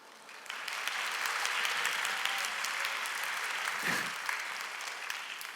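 Sustained audience applause fills a hall after a speaker's testimony at a church smile party event, a dense wash of many hands that swells in, holds steady, and then begins to taper near the end.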